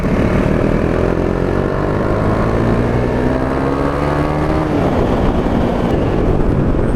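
Engine of a KTM 390 Duke motorcycle fitted with an Akrapovic slip-on exhaust, a loud, steady drone close by that rises and dips slightly in pitch as the revs change, with no talking throughout.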